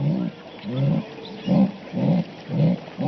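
A female jaguar in heat in the Amazon gives a series of rhythmic, grunting roars, about six low rasping calls in steady succession, fairly close and unaccompanied by talk.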